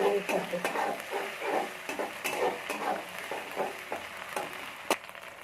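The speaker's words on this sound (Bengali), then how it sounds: "খুবই অল্প পরিমাণে আদা রসুন পেস্ট দিয়ে দেব দিয়ে মিশিয়ে নিব" Ginger garlic paste stirs and fries in a pan for chicken egg noodles, a soft sizzle broken by repeated scrapes and clinks of a spoon against metal, with a sharp knock near the end.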